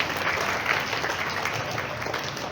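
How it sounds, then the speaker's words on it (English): Steady clapping from a school audience at a primary morning assembly for library week, honoring participating students; dense, continuous applause of moderate loudness throughout, with no clear talk over it. "Right now give a huge round of applause for Ms. Zunaira"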